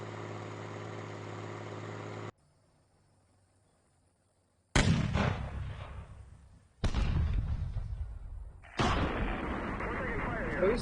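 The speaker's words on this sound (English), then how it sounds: "Alright, airstrike now." Heavy explosive booms from an airstrike in the tank simulator Steel Beasts Pro PE, several loud blasts arriving in bursts after a low engine drone and a short near-silence, with rumbling decay between impacts.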